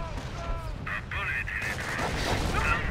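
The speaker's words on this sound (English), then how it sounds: "It's going point blank barrage on that." An artillery barrage in the video game Company of Heroes, with booming blasts and rumbling impacts that overlap as a commentator talks throughout.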